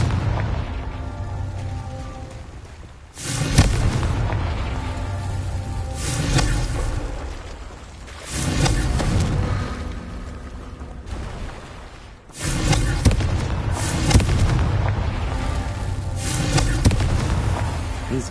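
Confringo spell explosions in a Harry Potter video game, several loud booming blasts with whooshing bursts separated by a few seconds, over a constant rumbling background.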